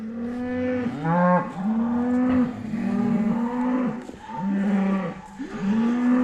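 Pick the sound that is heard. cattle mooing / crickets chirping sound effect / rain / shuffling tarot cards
cattle mooing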